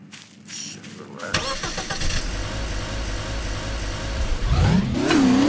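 A car engine in the video game Garry's Mod cranks and catches, settles into a loud steady run, then revs upward near the end, with people talking over it.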